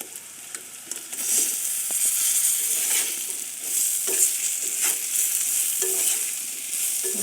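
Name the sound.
fish being stirred and fried with fried onions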